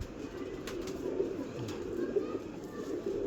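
A migratory pigeon cooing steadily nearby, low murmuring coos over a constant background hum.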